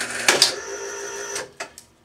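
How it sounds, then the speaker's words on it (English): A strapping machine binds and tightens a strap around a bundle, giving a few sharp mechanical clicks and thumps over a steady motor whir, close and fairly loud, with no talking. "this machine and this strap will strap it"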